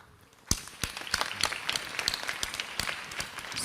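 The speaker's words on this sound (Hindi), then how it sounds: "सब तालियां बजा रहे हैं आपका गिफ्ट देखकर सारे लोग।" Studio audience clapping at a gift presented during a Ramadan iftar television transmission, a sharp onset followed by sustained, uneven applause with distinct individual claps.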